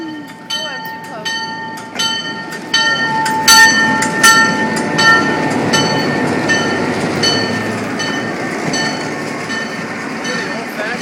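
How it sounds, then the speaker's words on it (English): An old-fashioned six-car train passes close by with rolling wheel clatter, rising and falling rumble and sharp metallic tones, while a child and an adult talk nearby. "6-car train. Wow. Here it comes."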